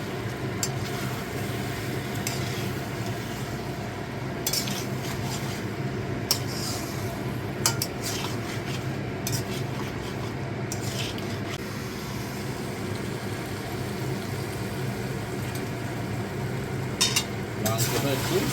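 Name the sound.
stirring meat frying in oil in a pan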